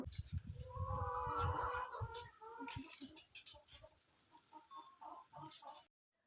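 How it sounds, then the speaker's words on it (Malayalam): Chickens cluck softly nearby, a run of low murmuring clucks followed by scattered short calls, fairly faint and outdoors. "ഞാൻ കോഴിക്ക് തീറ്റ കൊടുക്കാൻ വേണ്ടി മുറ്റത്തേക്ക് ഇറങ്ങിയതാണ്"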